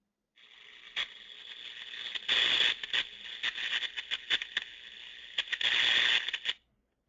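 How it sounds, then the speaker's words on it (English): Electrical arcing captured with an airborne ultrasound detector comes through as a harsh, buzzing crackle with irregular sharp pops and louder bursts, running for about six seconds before cutting off. "moving on to the big one that we do not want to experience or ever want to be near, but it's the arcing one, and I'll play this for you"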